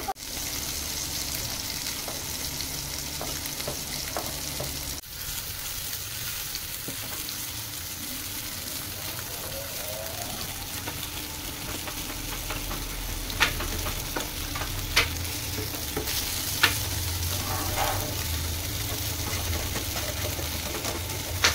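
Fish fries in mustard oil in a pan, a continuous close sizzle lasting over twenty seconds. Occasional sharp clicks and scrapes come from stirring.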